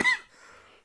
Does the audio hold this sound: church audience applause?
no